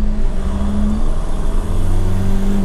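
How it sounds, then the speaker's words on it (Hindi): A Force Gurkha SUV drives on a city road in 2x2 front-wheel mode, its engine a close, steady low hum with a faint gear whine and no voices. "तो मैं अभी 2x2 चला रहा हूँ, 4x4 अभी ज़रूरत नहीं है, तो फ्रंट व्हील ड्राइव मोड में अभी फ़िलहाल गाड़ी चल रही है"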